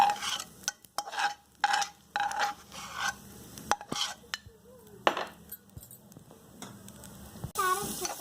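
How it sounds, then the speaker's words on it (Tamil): Carrots sautéing in butter in a pan, heard as repeated scraping and stirring strokes of a utensil against the pan at close range, with a faint sizzle underneath and irregular pauses between passes. "அடுத்து கேரட்டு நல்லா வதங்க விட்டுறோம்"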